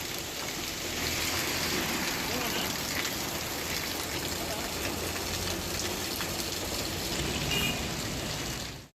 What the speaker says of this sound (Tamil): நாகை மாவட்டத்தின் பல்வேறு பகுதிகளில் இடி மின்னலுடன் கனமழை பெய்தது.